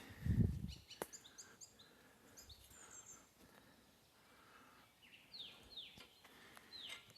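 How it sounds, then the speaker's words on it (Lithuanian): Small birds chirping and singing faintly in a springtime forest and shrubland, scattered high tweets spread across the moment, distant and quiet, with a low thump near the start. "Paukščiukai."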